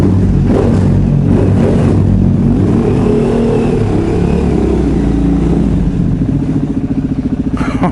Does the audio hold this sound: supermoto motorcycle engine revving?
yes